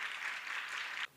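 An audience at a school for the blind applauds together in a brief, steady burst at moderate volume that cuts off sharply.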